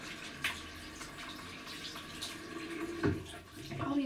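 Water runs quietly from a sink tap while a face is washed off, a faint steady trickle with soft splashes and a few louder sloshes from hands scooping water.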